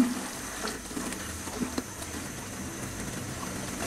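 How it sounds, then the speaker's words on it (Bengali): Beef and potato curry frying in a pan while being stirred, a steady soft sizzle with a few clinks and scrapes of the spoon against the pan, no talking. "এখন আমি মাংসটাকে একটু নেড়ে দিই।"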